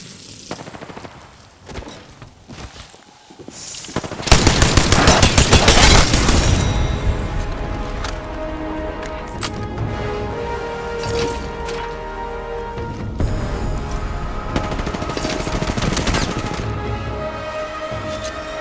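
Sustained automatic gunfire in Apex Legends, with dense rapid bursts and heavy booms swelling to a loud peak and then rattling on beneath game effects and scattered impacts; no one speaks.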